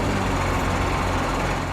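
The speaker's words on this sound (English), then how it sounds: "I was testing engine sounds earlier. And it's just too dang loud." A loud, steady vehicle engine from a farming video game drones continuously at close range, a dense unbroken rumble with no pauses and no talk over it.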